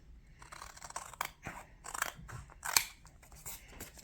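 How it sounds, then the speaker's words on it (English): Scissors trimming a CD cover to fit a theatre journal: a few close, crunchy cutting strokes with paper rustle, uneven in rhythm, one sharper snip near the middle, no voices. "So I'm going to trim this a little bit so that it fits."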